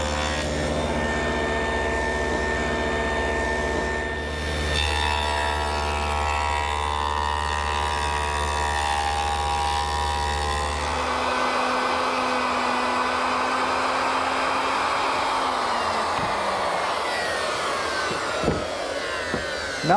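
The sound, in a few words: table saw with stacked dado head cutting groove in wood panel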